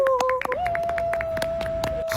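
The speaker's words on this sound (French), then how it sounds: "ils vont jusqu'à applaudir leur propre gênance" People clapping, a quick string of fairly close hand claps in an uneven rhythm over a steady tone.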